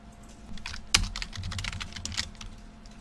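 Rapid typing on a computer keyboard as numbers are entered, with a sharp, louder keystroke for Enter near the start and steady clicking after.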